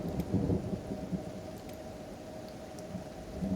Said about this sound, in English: Another lightning strike right there.